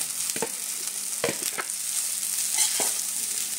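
Cooked rice is stirred through a hot pan for raw mango rice, with a soft continuous sizzle and a few scraping spoon strokes, close by and without talk.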